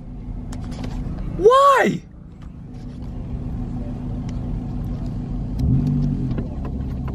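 An outboard boat motor fitted with a modified muffler runs at a kayak tournament on Coffeen Lake. It gives a steady low rumble with a brief rising-and-falling whine near the start, and a person speaks over it.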